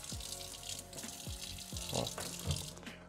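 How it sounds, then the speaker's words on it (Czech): Water patters from a kitchen tap while drops are sprinkled onto a tortilla during egg breakfast prep, with a few short splashes and soft knocks over running water, close and moderately loud. "a trošku ji pokapem vodou"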